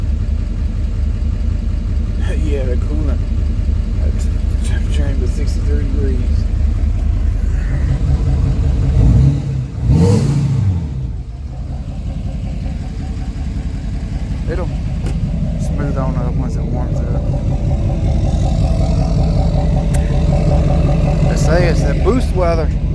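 A car engine running steadily after a cold start, a loud continuous low rumble idling close by, with a brief surge partway through and a voice talking over it.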